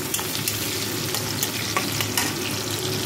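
Chopped garlic and green chilies frying in a pan with cumin and dried chilies, a loud continuous close sizzle with occasional stirring scrapes.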